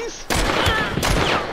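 Gunfire in the Hunt: Showdown shooter, a quick burst of loud close shots over about a second, with a voice talking alongside.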